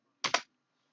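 A quick double burst of computer keyboard keystrokes typing a command at a terminal, close and crisp, lasting about a quarter second against a quiet background.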